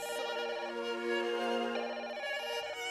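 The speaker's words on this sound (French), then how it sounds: "et puis le téléphone qui sonne." Telephone ringing in a French rap track, a steady melodic electronic ringtone with repeating tonal phrases, heard alone and fairly clear.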